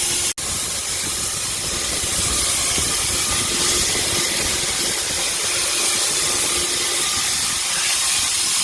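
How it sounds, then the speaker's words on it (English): Steam blasts out of a machine through a cone with bent-out tabs, a loud continuous roaring hiss that starts with a sharp click and keeps rushing without a break. "there's a lot of steam coming out of that thing in a hurry"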